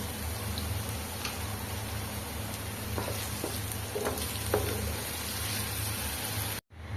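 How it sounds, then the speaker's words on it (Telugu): Potato pieces fry in a pan with a steady, quiet sizzle, broken by a few soft clinks of stirring, then a brief cut near the end. "ఆలుగడ్డ ముక్కలను అయితే బాగా ఫ్రై చేసుకోవాలి."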